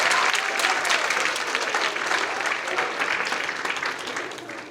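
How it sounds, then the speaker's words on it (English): An audience at the 2024 Writers Week event applauds in a school classroom setting: a loud, dense wash of many hands clapping that holds steady, then begins to thin toward the end. "Welcome. Clap it up."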